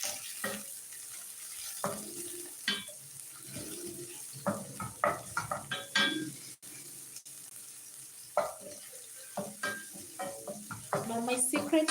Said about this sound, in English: To the oil, we will be adding some onions. Just give it a stir.